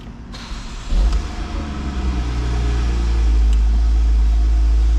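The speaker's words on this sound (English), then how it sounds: "we'll get the car started and let you hear what the flat 6 sounds like" Porsche 981 Boxster 2.7 flat-six with manual gearbox cranks and fires about a second in, then settles into a deep, steady idle that grows louder and fuller, close-up with no talk.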